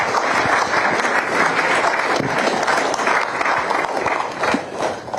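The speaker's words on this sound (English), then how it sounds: "help me give a massive round of applause for every single chairman" Sustained applause from an audience at a Lagos political dialogue event honouring local party chairmen, a dense steady wash of clapping that stays loud throughout and eases slightly near the end.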